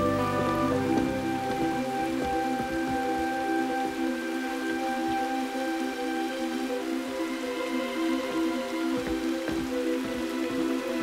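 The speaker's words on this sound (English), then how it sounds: "When the weather didn't let up, Pappy got concerned that the rain would swell the river" Rain falls steadily in a rural river setting, a dense patter of drops on surfaces beneath a sustained mix of tonal background sounds, with no speech.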